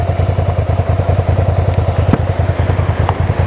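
A motorcycle engine runs steadily close by on a ride through Norway, its low, pulsing throb continuous with faint wind and clatter over it.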